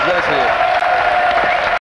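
Studio audience applause on a French game show, a steady dense wash of clapping filling the clip with a faint tonal line under it, cutting out abruptly just before the end.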